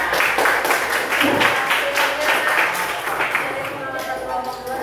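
Steady applause from a classroom of students fills the whole stretch, dense clapping with a light bit of chatter mixed in.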